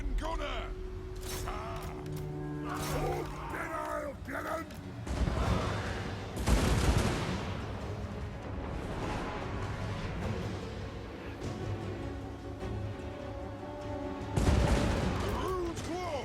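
A dwarf organ gun fires rapid volleys on a video game battlefield against Skaven, with clattering mechanical bursts and booming blasts scattered through the stretch beneath ongoing battle din and speech.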